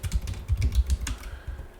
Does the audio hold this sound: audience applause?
no